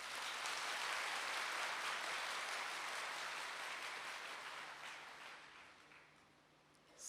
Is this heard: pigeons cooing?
no